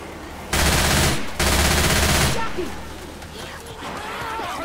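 Heavy automatic gunfire in Left 4 Dead 2 during a custom mountain campaign, two long loud bursts of close shooting separated by a short gap, followed by quieter ambient game noise.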